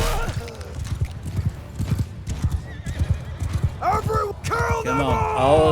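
Horse hooves clip-clopping and a neigh in a Mount & Blade II Bannerlord battle, with continuous dense battlefield noise and shouting throughout.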